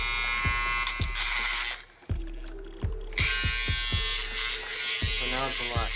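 A restored 1964 vintage Andis Master hair clipper, its armature freshly adjusted, runs with a loud, steady, harsh buzz that briefly drops out and restarts, with someone talking over it.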